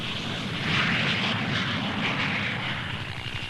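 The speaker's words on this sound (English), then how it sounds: "the Piaggio Douglas 808, a 10-seater executive craft, relies on twin rear-mounted Viper jets" Piaggio Douglas 808 ten-seat executive jet with twin rear-mounted Viper engines at the 1966 Farnborough air show: a loud, steady jet roar that swells briefly and then holds.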